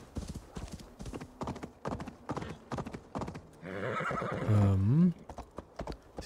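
A horse in Assassin's Creed Valhalla trots with rhythmic clip-clopping hooves, then lets out a loud, drawn-out whinny that rises and falls before the hoofbeats resume.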